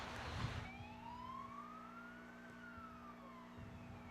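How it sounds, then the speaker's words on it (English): A siren wails in the distance, its pitch sweeping slowly up and then down over a steady low rumble. "you're hearing sirens in the background"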